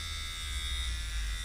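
An electric hair trimmer buzzes steadily and close while shaving a head, a constant mechanical hum with no talking.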